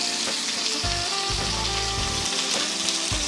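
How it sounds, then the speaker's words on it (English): An ahi tuna steak searing in a really hot stovetop skillet with a little avocado oil gives a loud, steady sizzle, with small crackles and pops throughout and no voices. "And now this is a really hot skillet with a little bit of avocado oil."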